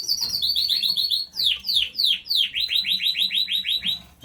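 A male canary at a canary breeding facility sings nearby and loudly, with rapid repeated chirping trills and sweeping whistled phrases that come in bursts with short gaps between them.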